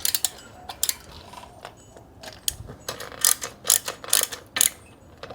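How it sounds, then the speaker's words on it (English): Screws being tightened on a fender bracket for a 2022 Honda Trail 125 motorcycle, heard as a run of close mechanical clicks and ratcheting ticks in irregular bursts that grow busier toward the end, with no voices. "I can go ahead and tighten these screws down."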